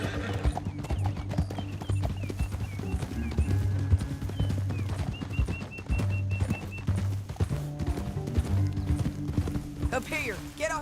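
Horse hooves clip-clopping in Red Dead Redemption 2, several horses trotting in a steady rhythm with an occasional whinny, set under a low musical score and game effects.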